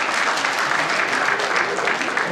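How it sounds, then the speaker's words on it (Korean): Audience at a Korean hometown association's New Year gathering and general meeting applauds a cash donation, a dense, steady wash of many hands clapping at full volume throughout. "감사의 박수 부탁드립니다"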